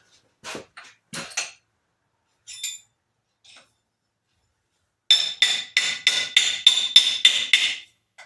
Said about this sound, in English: I have to go pound that out on my vise once again